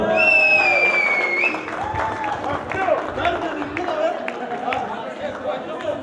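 A crowd claps steadily while voices talk and call out over it, and a high whistle sounds near the start.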